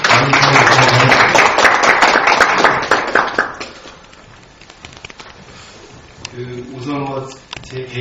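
An audience at a history forum lecture claps as a lecturer is welcomed. Dense applause fills the first few seconds, with a voice over it, then fades into speech.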